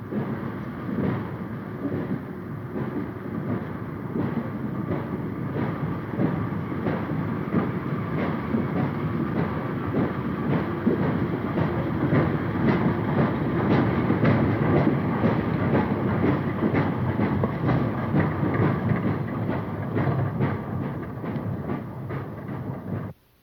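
A departing commuter train rumbles and clatters steadily, wheels rattling over the rails in a continuous loud roar that builds slightly before easing off.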